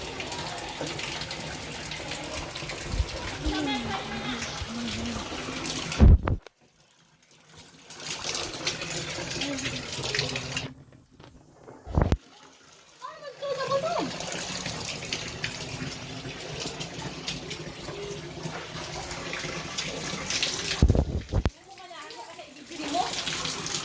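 Shower water running at home, a loud continuous rush of spray that cuts off briefly a few times and resumes, with children and adults talking over it now and then.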